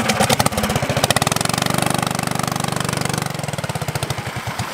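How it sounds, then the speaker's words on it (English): A small 420cc lifted go-kart engine idles steadily close by, a rapid even chugging pulse that continues throughout with no voices. "Daniel, the engine's not even close to the water."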